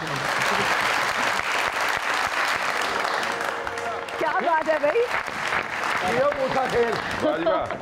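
A studio audience on an Eid television talk show claps loudly and steadily after a song. The applause is close and sustained, and voices talk and exclaim over it toward the end.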